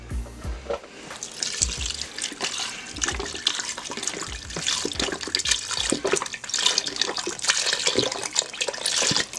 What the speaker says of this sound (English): We're going to add about 5 cups of beef broth to this.